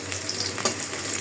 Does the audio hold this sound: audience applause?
no